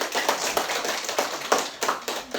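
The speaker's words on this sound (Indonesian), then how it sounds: "Oke, tepuk tangan." A small classroom group claps briefly, a short burst of individual hand claps in an uneven rhythm lasting a couple of seconds, close and moderately loud.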